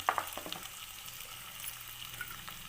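Potatoes frying with salt in a pan make a quiet, continuous sizzle with a few soft stirring scrapes at the start, steady and low throughout.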